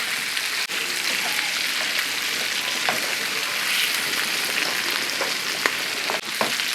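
Beef sizzles and crackles in a hot pan with garlic and onion for biryani, a steady close frying hiss with occasional sharp pops.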